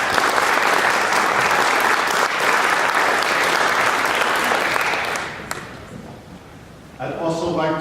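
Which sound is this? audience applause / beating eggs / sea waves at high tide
audience applause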